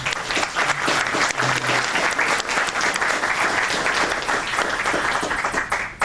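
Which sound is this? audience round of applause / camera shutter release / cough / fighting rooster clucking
audience round of applause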